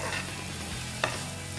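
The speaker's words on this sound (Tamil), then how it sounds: "வெங்காயம் கொஞ்சம் நல்லா வதங்கணும்" A steady sizzle of chopped onions frying in a pan with whole spices, with one brief scrape of a utensil stirring partway through, no voices.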